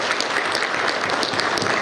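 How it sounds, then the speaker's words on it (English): Loud, dense round of audience applause for a former Canadian national cricket captain on a cricket development panel, many hands clapping steadily without a break. "a big round of applause"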